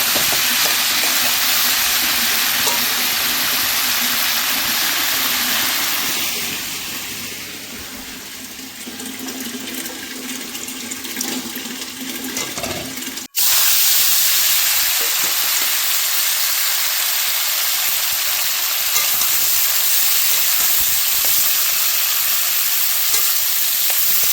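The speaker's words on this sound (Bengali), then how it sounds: "ডিমটা বেশ ভালো ভাজা করছি" An egg fries in a pan with a steady, close broadband sizzle throughout, dipping briefly mid-way with a short break before the crackle returns at full strength; a running-water hiss may blend in.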